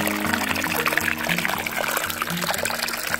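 Steady water pouring and gurgling as it runs into a pipe at the source spring of the Mogi Guaçu River, close and continuous, with a low hum underneath.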